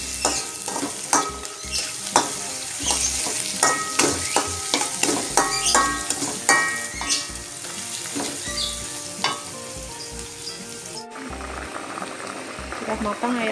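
Spice paste sautés in a hot pan, loud sizzling and bubbling with repeated scraping and stirring strokes close by, a brief pause near the end before the frying resumes.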